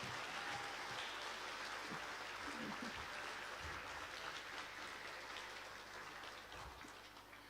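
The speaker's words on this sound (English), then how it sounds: "So can we give them a round of applause" Audience at a graduation ceremony applauding, a dense steady wash of clapping that fills the room, moderately distant and sustained, tapering slightly toward the end.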